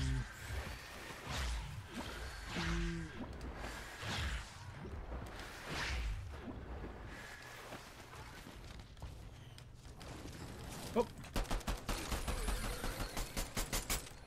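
Shooting video game gunfire: faint scattered shots and swishes early, then a rapid burst of automatic fire near the end, quiet and close.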